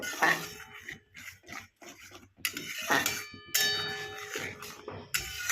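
Dhela fish stirred in a metal pan on a gas stove produces sharp clanks and ringing metallic clinks, separated by brief pauses, against a soft frying hiss.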